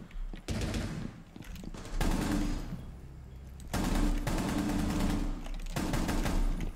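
Gunfire in Rainbow Six Siege: three bursts of sustained automatic fire, each several seconds long and dense, separated by brief quieter gaps, with no speech over them.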